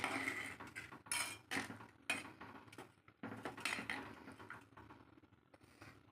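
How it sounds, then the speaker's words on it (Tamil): Fish curry being stirred in a metal pot, a series of irregular scraping and clinking strokes of a spoon against the pot, close and fairly quiet, with short gaps between strokes. "கிண்டி விட்டுக்கலாம்."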